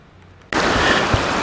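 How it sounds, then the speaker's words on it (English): Rushing creek water tumbling over small waterfalls in a city park, a steady, loud broadband wash that starts abruptly and continues close by without voices. "It's a really nice setting with this creek going through it, and has several sets of small waterfalls."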